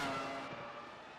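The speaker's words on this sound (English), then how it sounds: "Oh, side by side for the two Viking racing cars." Two Viking racing cars running side by side on the Charlotte Roval circuit in a racing sim, a steady droning engine roar fading slightly, faint and continuous with no talk.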